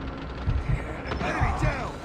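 A pistol magazine change and reload in Call of Duty Mobile: a quick run of close mechanical clicks and clacks with a couple of low thumps, set against a busy game background.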